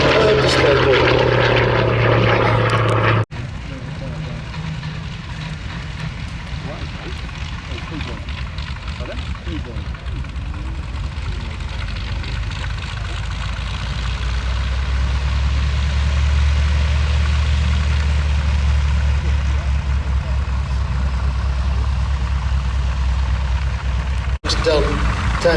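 A Hawker Fury II with a sleeve valve aircraft engine at an air show, its propeller engine droning steadily nearby as it taxis, with a low rumbling tone building in the later part and a commentator talking over it.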